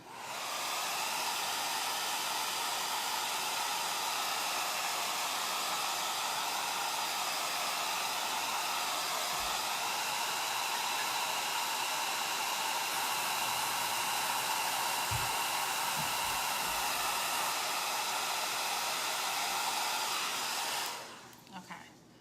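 A hair dryer blows chalk paint dry on an old cupboard door, a steady, close, unbroken roaring hiss lasting about twenty seconds before it switches off, with a few faint knocks underneath.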